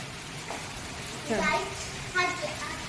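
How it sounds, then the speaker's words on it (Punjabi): Steady rain hisses in the background throughout while voices talk over it. "ਉਸ ਦਿਨ ਵਾਂਗੂ ਹੋ ਰਿਹਾ ਮੀਂਹ"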